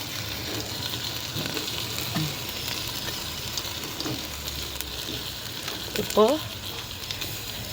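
Vegetables sautéing with ginger garlic paste for veg biryani give a continuous crackling sizzle with occasional stirring scrapes, while a voice speaks faintly in the background.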